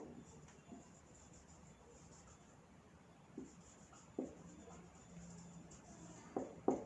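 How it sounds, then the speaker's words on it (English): Pen or pencil writing numbers by hand on paper during a Grade 4 math lesson, giving faint scratchy strokes with a few brief taps, quiet and close, with no talking. "Now I am going to write the number name for this question."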